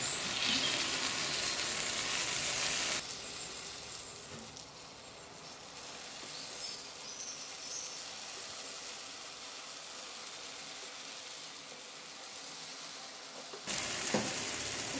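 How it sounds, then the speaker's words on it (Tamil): Idli batter poured into a kuzhi paniyaram pan gives a steady, soft hiss of sizzling, louder at the start and end with a quieter stretch between, no voices. "குழிப்பணியாரம் ஊற்றுலாங்க"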